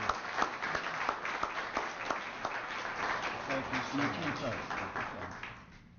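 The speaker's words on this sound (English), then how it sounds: "So let's give him a big round of applause, everybody." Audience applause for a speaker at a professional staff development certification awards ceremony, a steady spread of clapping across the room that fades near the end, with some voice mixed in.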